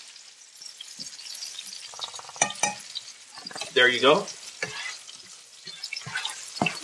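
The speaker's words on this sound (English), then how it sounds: "So we're gonna let this saute for about 3-4 minutes." Mung beans and jasmine rice sauté in a pan, a soft sizzle under sharp stirring scrapes and a loud metallic clatter midway, with a brief spoken remark.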